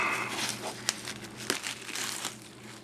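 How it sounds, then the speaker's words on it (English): Knife carefully slicing through the plastic wrap on a limited-edition Blu-ray box set, close crinkling and crackling of film with a few sharp ticks as the blade catches. "Have to very carefully cut it with my knife."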